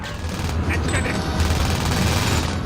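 Gunfire in the 2000 PS1 game 007: The World Is Not Enough, a dense stream of rapid shots layered with a steady low rumble and game noise, loud and continuous through the moment.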